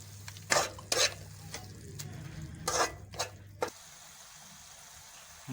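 Masala with red chili powder roasting in a pan, heard as a few scraping stir strokes over a low steady sizzle, the stirring stopping near the end and leaving a faint background hum.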